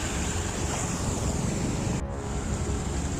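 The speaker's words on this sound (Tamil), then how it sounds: "அதில் வாகனம் கொண்டு வருது பாருங்க எவ்வளோ வெள்ளம் போட்டபடி வந்து கொண்டு இருக்குது" A vehicle pushes through floodwater on a road in Jaffna after torrential rains, producing a continuous rushing, sloshing wash of water that stays close and steady, with a brief dip midway and no speech.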